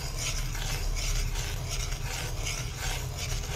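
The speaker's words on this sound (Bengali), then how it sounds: "একদম লো ফ্লেমে রাখতে হবে, এইভাবে একটু একটু করে নেড়ে নিতে হবে।" A mixture warming in a pan over a low gas flame is stirred steadily, a continuous close scraping and rubbing with a soft rhythmic swish, no voices.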